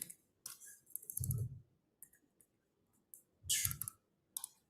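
Clacky computer keyboard keys are tapped in short, uneven bursts, with isolated clicks between a couple of louder, denser flurries, close up and with nobody talking.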